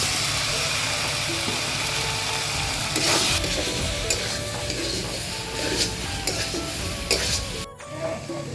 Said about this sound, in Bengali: মশলাটা ভালো করে ভাজা হয়েছে এখন ভাজা আলুটা দিয়ে দিব